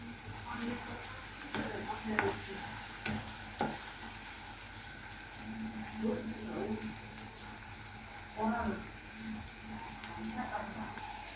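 Onions fry in hot oil for crispy beresta, a soft, steady sizzle with occasional stirring scrapes and clinks of a spatula against the pan, fairly quiet and continuous.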